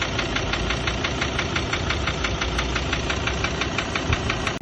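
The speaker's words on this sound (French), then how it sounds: "on a entendu un bruit un peu bizarre dans le moteur, une espèce de claquement" A Ford van's engine idles with a steady, fast metallic knocking, evenly spaced clacks repeating throughout over a loud continuous engine rumble, close up with no voices.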